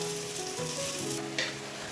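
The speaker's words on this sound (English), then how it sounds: "stirring the rice and frying it for another 5 minutes so that every grain is separated even after it is cooked" Rice with cloves sizzles and crackles in hot oil for biryani, with a spoon stirring through the grains; a close, steady frying hiss with a brief scrape.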